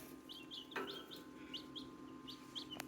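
Newly hatched chicks in a brooder under heat lamps give soft, high peeping chirps in scattered bursts over a steady background hum, with one sharper click partway through.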